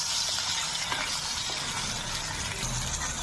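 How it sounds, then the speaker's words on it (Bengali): Potatoes and pointed gourd fry lightly together in a pan, giving off a steady, moderately loud sizzling hiss with soft bubbling throughout and no talk. "আলু আর পটল একসাথে ভেজে নেবো।"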